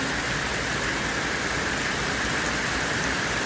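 Heavy rain pouring down on a nipa hut, causing flooding, in a dense, loud hiss, steady and close throughout, with no voices.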